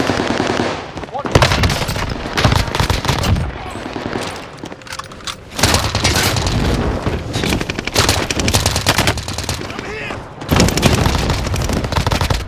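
Rapid automatic gunfire from a gunfight in Call of Duty Warzone on Rebirth Island comes in loud, dense bursts separated by short pauses, and a voice briefly speaks over it.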